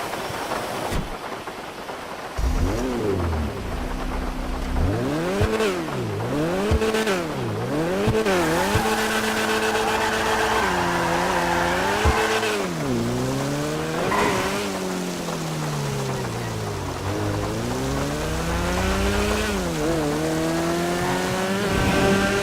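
A Karin Z190 sports car engine in GTA Online revs repeatedly, pitch climbing and dropping in waves, loud and continuous with no talking.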